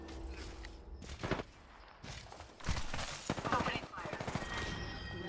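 Gunfire in Apex Legends, close sharp rifle bursts and single shots in uneven clusters, punctuated by footsteps and mechanical clicks, with a character's voice briefly speaking between shots.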